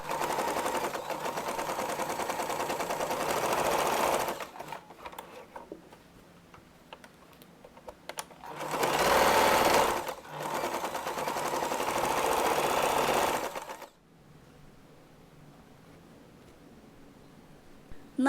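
A sewing machine stitches main fabric and lining together in bursts of fast, rhythmic ticking. Loud runs alternate with short pauses, and the machine ends in quiet.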